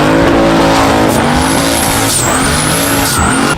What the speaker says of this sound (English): it only wants to do Aussie burnouts